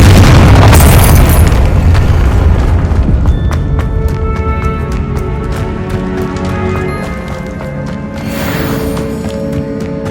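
A Confringo blasting spell explodes in Hogwarts Legacy, a loud booming burst at the start that rolls into a long rumbling, crackling decay with scattered debris pops and a second swell near the end; no voices.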